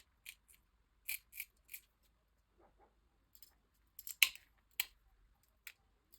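A polystyrene foam piece is trimmed with scissors, its corners cut off in short, sharp snips arriving in small clusters against near silence.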